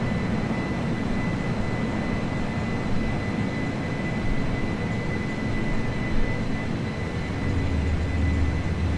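A UPS Boeing 747-400F climbs after takeoff in the Prepar3D flight simulator, its jet engines a steady, loud broadband roar with a constant high whine, unbroken and alone for the whole stretch.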